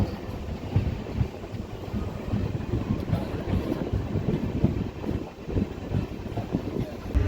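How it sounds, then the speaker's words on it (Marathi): The Dikshabhoomi Express, Dhanbad–Kolhapur 11046, pulls into Sangola station, a steady broadband rumble of moving railcars with wind buffeting the microphone throughout, loud and continuous. "दीक्षाभूमी एक्सप्रेस नऊ वाजून आठ मिनिटांनी सांगोला रेल्वे स्टेशनवर पोहोचलेली आहे"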